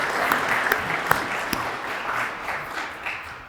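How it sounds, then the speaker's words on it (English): A crowd at a groundbreaking ceremony for a new nursing and health professions school gives a warm round of applause, steady close clapping with a few sharper claps that tapers slightly at the end. "So let's give this group a round of applause,"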